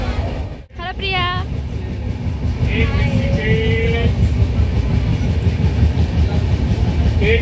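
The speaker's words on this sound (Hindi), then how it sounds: "C, this is our train and station में लग चुका है।" A passenger train rumbles along the rails near a station, a loud continuous low roar with rattling, joined by a brief whistle-like tone and voices.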